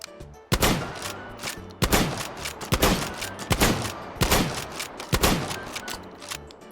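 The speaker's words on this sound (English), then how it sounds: "The MCS 870. This was the one from Modern Warfare. One of the best shotguns in Call of Duty history." A pump-action MCS 870 shotgun fired in the H3VR video game: about six loud, booming blasts spaced roughly a second apart, each with a sharp crack and short decaying tail, with no talk.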